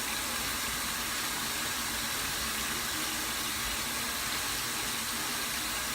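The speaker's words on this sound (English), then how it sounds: "we're just gonna like try to put as much water into it right now" Steady running water pours onto curly hair during a washing routine, a continuous even hiss that fills the whole stretch with no talking.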